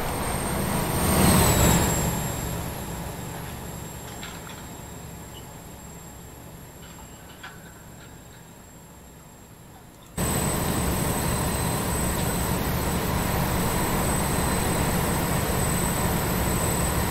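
A train in a railway simulator game runs toward Haslemere with a steady rumble of wheels and a thin high whine. The sound drops abruptly and then returns loud and constant.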